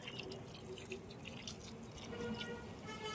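Water trickles and drips gently onto a potted lotus plant, a faint, steady splashing that goes on throughout at close range.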